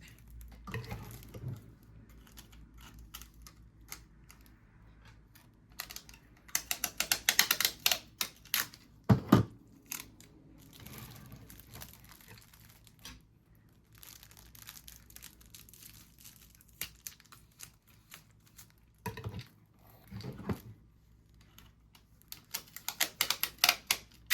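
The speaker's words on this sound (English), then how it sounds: "I've just got some packing tape here. Just going up under there and taping it." Packing tape is pulled off the roll and pressed into place, giving intermittent crackling rips and crinkles between quieter pauses, close and fairly faint.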